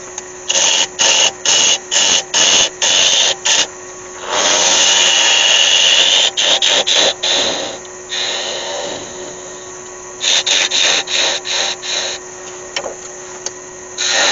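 A wood lathe turns a small piece of walnut into a button nose, with bursts of whirring and scraping separated by short pauses and a longer continuous cut in the middle, close and fairly loud with no talking.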